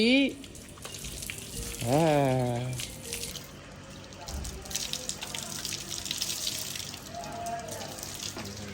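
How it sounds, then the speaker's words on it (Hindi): Cold water from a motor-fed shower splashes and hisses steadily and close by, while people talk and shout over it. "ठंडा पानी मोटर का फ्रेश आ रहा है"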